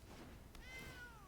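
A cat's single short meow, faint and distant, with a rising then falling tone.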